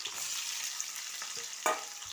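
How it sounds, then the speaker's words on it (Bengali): Four large chopped onions frying in oil with cardamom, cloves and bay leaves give a soft steady sizzle, broken by a few brief scraping stirs near the end, with no talk. "পেঁয়াজটা লাল করে ভাজা হয়ে গেছে"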